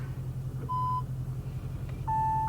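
Audi RS7 reverse warning chime: two clear electronic beeps, the second starting just before the clip ends, sounding over a low steady idle hum inside the car.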